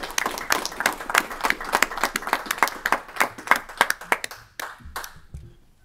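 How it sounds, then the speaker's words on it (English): A small group at a joint legislative committee meeting on natural resources and energy gives the chairman a round of applause, with distinct close, fairly loud claps that thin out and stop near the end, followed by a brief low voice. "So he needs a special round of applause for him."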